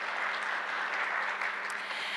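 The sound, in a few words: congregation applause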